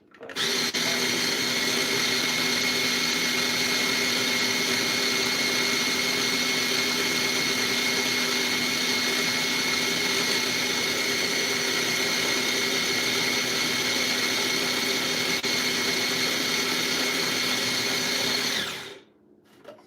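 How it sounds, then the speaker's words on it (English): A small kitchen blender runs nonstop for about nineteen seconds, crushing ingredients with a steady, loud motor whine and grinding rattle, then cuts off abruptly near the end. "You gotta have patience when you have a small blender."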